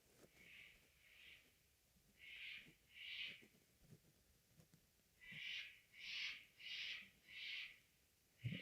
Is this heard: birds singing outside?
yes